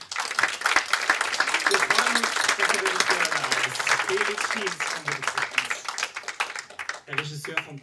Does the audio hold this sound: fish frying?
no